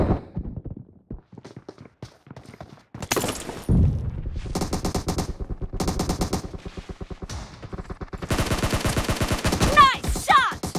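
Rapid bursts of gunfire in the PUBG Mobile team deathmatch game, repeated volleys and machine-gun strings loud and close, with scattered single shots and footsteps between them.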